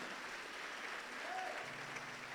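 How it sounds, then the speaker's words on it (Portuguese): A church congregation applauds during a sermon, a steady wash of clapping heard faintly and at a distance, continuous through the moment with no voices rising above it. "Se você acredita nisso, aplauda o nome dele"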